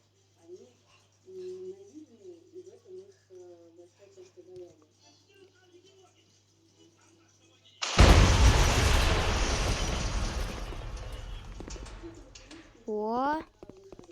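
Firecracker set off outdoors: a sudden loud burst follows several seconds of talking, then a long crackling roar fades slowly, with a brief rising whistle near the end.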